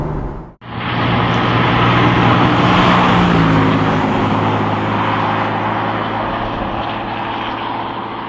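A Porsche 997 GTS with a sport exhaust and SCART valves drives through a village, its engine and exhaust a loud, steady low drone heard from inside the cabin after a brief abrupt cut near the start.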